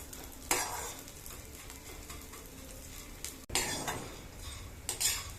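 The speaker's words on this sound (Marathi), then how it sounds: "तो हलवत राहायचा आणि तुपावर छान असा परतवून घ्यायचा" Edible gum (dink) puffs and roasts in ghee while being stirred, giving a soft continuous sizzle with occasional scraping and clinking from the spoon against the pan, fairly faint and without talk.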